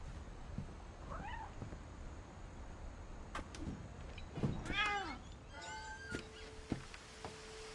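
A cat meows in a video game, several short rising and falling mews scattered over a quiet background, along with sharp clicks and an electronic tone.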